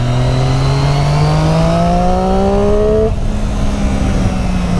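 A 2013 Triumph Street Triple motorcycle accelerates hard, its engine note climbing steadily through the revs for about three seconds before a gear change drops the pitch and it pulls on, loud and close.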